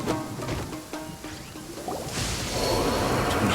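Wind skill effect from the Genshin Impact video game: a rising, airy whoosh that sweeps in over a few seconds, layered with short swishing hits and building to a broad gust at the end.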